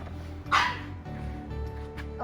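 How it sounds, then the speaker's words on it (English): A pet dog gives one sharp, loud bark close by, followed by a low steady background hum. "my dog is about to start barking"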